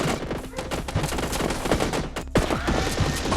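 Rapid bursts of nail gun fire from the sci-fi shooter game Alien Slayers, dense and continuous with sharp thuds, loud and up close, mixed with other game effects.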